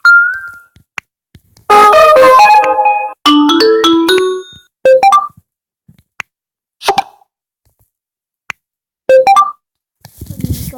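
A phone ringtone plays in loud melodic bursts of bright tones. Short pops and notification blips are scattered through the gaps, and no one speaks.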